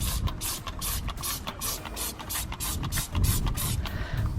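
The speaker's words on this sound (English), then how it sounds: "I spray on and it clings instantly" Foaming wheel and tyre cleaner sprayed from a foaming tip onto the wheels of a Focus RS or Mini Cooper JCW, giving a steady run of repeated hissing spray bursts, close and loud, with no talk.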